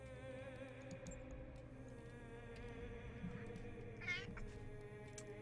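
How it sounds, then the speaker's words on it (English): A cat meows once, faint and brief, over a steady hum of background noise and tones, with no voices. "I do not need help, cat"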